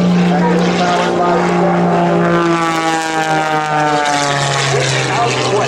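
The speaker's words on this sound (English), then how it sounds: "without question the most high-performance aerobatic biplane in the world today" High-performance aerobatic biplane weighing 1,225 pounds at an airshow, its engine and propeller producing a loud, steady droning roar with shifting pitch as it passes close by.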